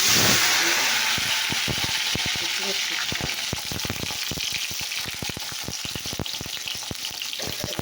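Potol, potatoes and bitter gourd fry loudly in hot oil in a pan, a steady close sizzle with rapid crackling pops throughout and no voices.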